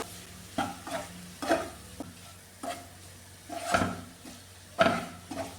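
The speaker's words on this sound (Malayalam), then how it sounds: "പുരമീൻ ഇതിലിട്ട് നന്നായിട്ടൊന്ന് വഴട്ടി എടുത്തിട്ടുണ്ട്" Tuna pieces sautéed with masala in a pan, steady soft sizzling broken by repeated spatula stirs and scrapes against the pan at an uneven rhythm.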